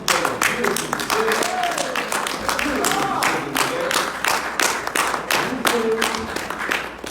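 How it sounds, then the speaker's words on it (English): A crowd at a talk in Los Angeles applauds itself with dense, continuous clapping and cheering. Voices mix in throughout. "Give yourselves a round of applause."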